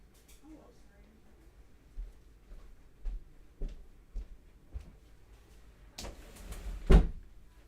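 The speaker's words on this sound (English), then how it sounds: "He's like banging on the door" A child bangs on a door with a series of dull, irregular thumps, followed by a louder thud near the end, while an adult voice talks nearby.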